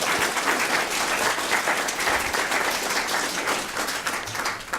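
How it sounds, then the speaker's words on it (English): Audience at a university scholarship reception, students and donors, applauding in a dense, steady round of clapping that holds strong throughout. "So give everyone a round of applause that's here"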